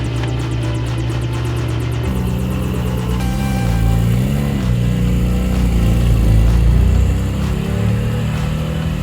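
A car engine hums steadily and then climbs in pitch as it accelerates on a driving course, loud and close, with no talking.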